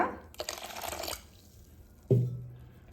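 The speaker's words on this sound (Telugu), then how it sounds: "ఈ ఓట్స్ అనేది విడిగా నానబెట్టుకోవాలి సో ఇందులో వాటర్ పోస్తాం కదా" Water poured into a bowl of oats to soak them for dosa batter, a brief close splashing pour followed by a quiet pause and a short ringing knock of the vessel.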